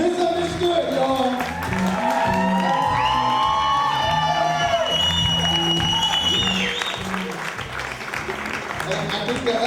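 Audience at a live improv comedy show applauding a comedian, with sustained clapping, scattered whoops and cheers, and a crowd roar, while a musical tone and voices carry over the top.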